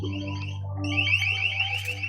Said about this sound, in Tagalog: Ito ba yung tinatawag na LRAD?